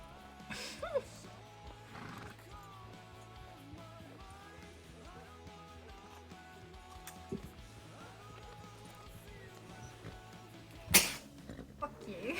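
Horse neighs and hoof clip-clops from a video game, set in a busy game soundscape with music-like tonal layers and a sharp bang near the end; a voice talks intermittently.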